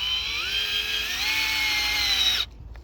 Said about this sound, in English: We're drilling at an angle, not super low like this, but at an angle about like this.